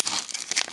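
Plastic wrapper of a 2023-24 Upper Deck O-Pee-Chee Platinum hockey retail card pack being cut open, a brief close crinkling and tearing rustle that lasts under a second with no talk.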